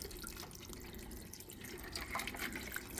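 Vegetable broth is poured into a soup pot, making a soft, steady splashing trickle that swells slightly toward the end, with no talking.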